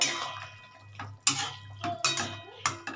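A lid comes off a pot of hilsa fish curry cooked with potato, brinjal and pumpkin, giving three or four sharp metallic clanks and scrapes, close and fairly loud over a low steady hum.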